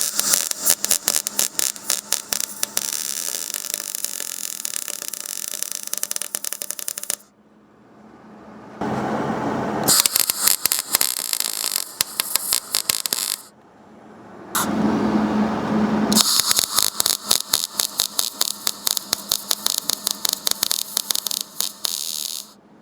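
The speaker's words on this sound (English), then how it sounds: "let's get the welder, let's clean up some of the metal, and get to fully welding this into place." Welding on a go-kart frame: a dense, crackling buzz in long bursts with short pauses between them, loud and close, with no talk.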